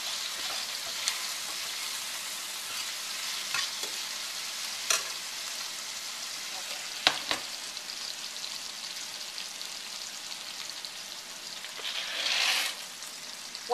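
Steady soft sizzling of chicken and garlic frying in a pot, with a few sharp clicks and scrapes of stirring and a brief louder hiss near the end.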